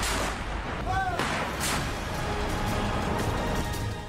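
A French artillery cannon fires, giving a couple of sharp, booming blasts close together over a steady, noisy outdoor background.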